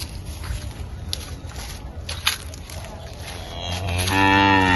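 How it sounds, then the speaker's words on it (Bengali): A cow at a village home moos loudly and close by, a long deep call swelling near the end over footsteps and outdoor background noise. "দেখেছিস দিদিমাদের আম্বা গরুটা ডাকছে মহিকে দেখে"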